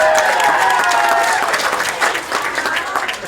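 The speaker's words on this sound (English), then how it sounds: "Round of applause" A stand-up comedy audience breaks into applause at a Valentine's Day show: loud, dense clapping and some cheering fill the moment, with a voice faintly audible underneath.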